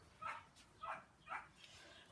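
A small pet dog at home gives three short, sharp barks at an even pace, faint and somewhat distant, with no other sound around them.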